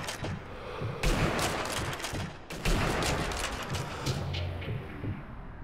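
Gunfire in the Sniper Elite V2 video game: loud rapid bursts of shots crack out in two dense volleys, each cut off sharply before more firing resumes, with no voices over it.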